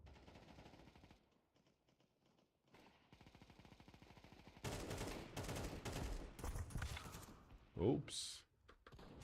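A shooter video game played on an Acer Nitro V laptop with an RTX 4050: quiet stretches of sound give way to rapid bursts of automatic gunfire and sharp shots in the second half, with a voice talking underneath.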